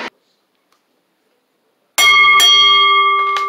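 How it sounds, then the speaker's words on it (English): A wrestling ring bell at a women's one-on-one table match in an arena rings loud and close, with several sharp, ringing strikes that leave a sustained metallic tone after a brief silence. "the bell ring, and here we go"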